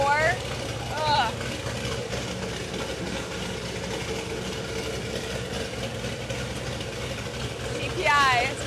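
A GPI 416 Camaro engine runs on a dyno with a deep, steady throaty idle, while a voice speaks briefly over it near the start and again at the end.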